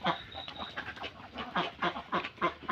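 Egg-laying ducks of about 1.5 kg each quack in a rapid, repeated series of nasal calls, several birds close by and fairly loud, with a steady rhythm throughout.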